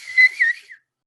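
A person whistles a brief, wavering tune of two or three short rising and falling notes, close and clear, then stops into silence.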